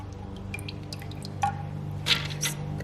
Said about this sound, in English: I'm squeezing all the excess water.